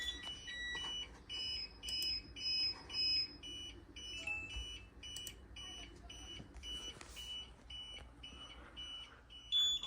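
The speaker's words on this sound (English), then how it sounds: "fire alarm's acknowledged" A home fire alarm beeps in regular repeating bursts, moderately loud, alongside a UPS backup battery unit beeping during a power cut, with faint background noise between the beeps.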